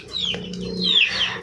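Young chicks peep in high, rising chirps alongside the low clucking of fowl in a coop where a year-old rooster is kept with four-month-old chicks. The calls are close and brief, with no talking.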